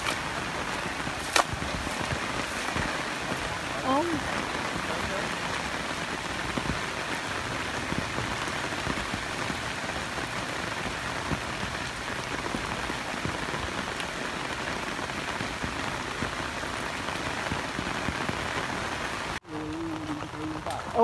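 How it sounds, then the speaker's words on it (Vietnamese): Steady rain falls outdoors at a Vietnamese fish and frog harvest, a dense even hiss that runs almost the whole time before cutting off near the end, with voices faintly underneath. "đang kéo trời mưa, bây giờ phải đem dù ra."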